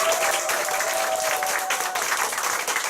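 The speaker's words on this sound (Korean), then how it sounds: "다시 한번 우리 서상원 선생님께 큰 박수 부탁드리겠습니다" An audience at a company group meeting gives a loud, steady round of applause for a presenter, dense clapping running unbroken for the full stretch with a faint tonal ring floating above it.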